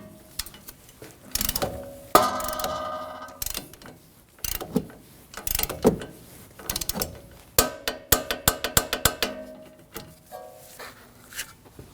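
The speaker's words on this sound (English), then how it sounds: "We'll torque the pinch bolt for the strut to 58 foot-pounds." A torque wrench tightening the strut pinch bolt on a Honda Pilot during front wheel bearing replacement, rapid ratcheting clicks in several bursts with short pauses, close and clear.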